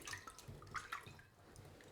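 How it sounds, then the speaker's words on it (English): Cold water pours into a bowl of soaking sausage casings in a home kitchen, a faint, steady splashing trickle with small drips, heard close and alone. "So let's get some cold water in there."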